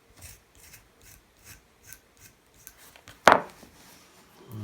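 A wooden stern plank for a model of the battleship Yamato is chamfered by hand with a file, giving soft rhythmic rasping strokes, close and quiet, followed by one sharp louder scrape near the end.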